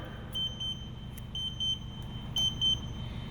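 A Shibaura Machine TS5000 controller emits repeated double beeps, three crisp high-pitched pairs evenly spaced, signalling a completed firmware update over a faint steady background hum.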